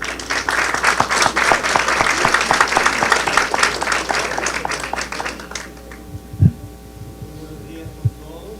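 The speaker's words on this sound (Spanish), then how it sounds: "recibamos con un fuerte aplauso" Loud crowd applause, dense and sustained for several seconds, then stopping abruptly, leaving electrical hum and a couple of thumps.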